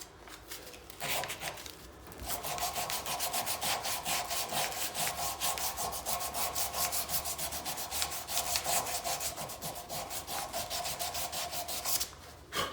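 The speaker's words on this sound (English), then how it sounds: "I got about probably 20 minutes of that to do, stepping up through the grits" Knife handle being sanded by hand, stepping up through the sandpaper grits, gives a steady, close, rapid rhythmic scratching of back-and-forth strokes that runs almost continuously with a brief pause near the start.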